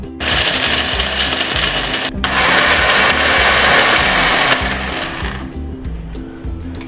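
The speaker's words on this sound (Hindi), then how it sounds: "अब मैं ब्लेंड करके इसको जो है पाउडर बना लूँगी।" A close, loud electric blender grinds dried pomegranate peels into powder, a dense whirring roar that surges once, pauses briefly, then runs on and gradually eases off near the end, with no talking.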